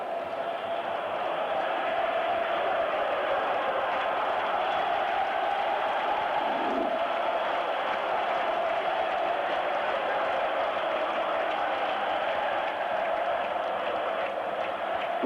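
A huge crowd cheers and roars nonstop at a 1984 Roma versus Dundee football match in Rome, the dense stadium noise staying loud and sustained from start to finish.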